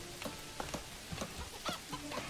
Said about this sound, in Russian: У них куры.